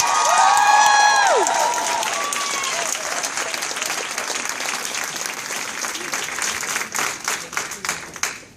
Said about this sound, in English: So let's hear it for Ed and Sharon